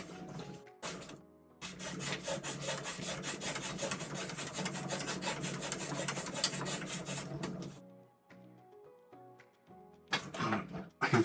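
Sanding the surface of a plastic B-36 model kit by hand, a steady close rasping rub that runs continuously for several seconds, stops, then resumes briefly, with no talking.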